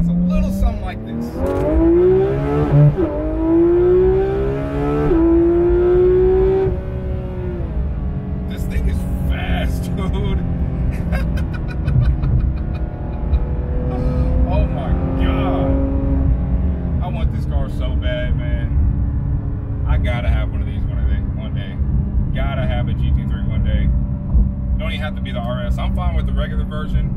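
A Porsche GT3 RS engine revs hard toward 9,000 RPM. The loud rising pitch climbs and drops through repeated pulls, with people talking over the roar throughout.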